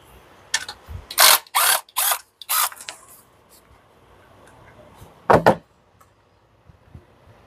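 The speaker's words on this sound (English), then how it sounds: "take a 10 millimeter and remove these bolts here" Ratchet with a 10 mm socket loosening valve cover bolts on a 2004-2006 BMW X3 (E83): a few loud, close bursts of clicking in quick succession, a pause, then one more short double burst, with no talking.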